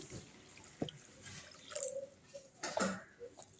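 Water poured over washed grains (sago and rice for idli batter) to soak them in a bowl, heard as a few soft drips and short splashing pours, close and fairly quiet, with no talking.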